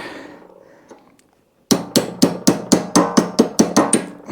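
A steel punch is hammered against a bent screwdriver while working on a vintage motorcycle: about ten sharp, evenly spaced metallic strikes follow a quieter stretch of faint handling noise.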